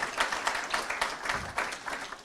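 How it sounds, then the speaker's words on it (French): A ceremony audience applauding at a chair signing event, with a quick, continuous patter of many hands. The clapping is moderate in level and fairly even, with rhythmic surges, and no one talks over it. "Donc je crois qu'on peut l'applaudir très fort"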